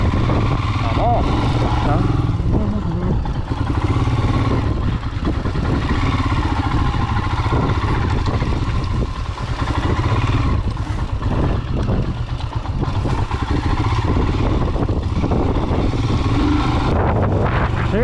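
Royal Enfield Himalayan motorcycle ridden over sand dunes, its engine droning steadily and loud throughout with wind buffeting the microphone and people talking over it.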